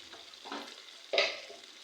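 Rohu fish fries in a pan with a low, constant sizzle, rising in two short, louder crackling bursts before easing back.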